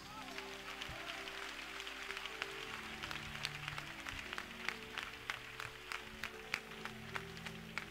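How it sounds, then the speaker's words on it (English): A church congregation claps for Jesus during a sermon, with sparse, fairly distant hand claps that thicken into a loose patter over a low background drone. "You can clap for Jesus."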